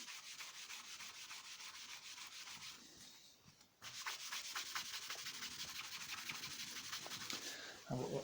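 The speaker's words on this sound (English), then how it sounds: "burnish it or wipe it with a cloth. Give it a quick, well, polish" A cloth rubs briskly over the waxed edge of a book's pages, a soft, steady scratchy friction in repeated strokes, briefly pausing before resuming slightly stronger and faster.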